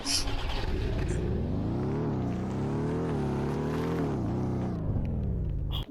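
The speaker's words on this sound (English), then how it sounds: "Here's another Porsche. This one's a 914." A Porsche 914 drives into water, its engine droning and rising and falling in pitch as it pushes through, loud and close before cutting off near the end.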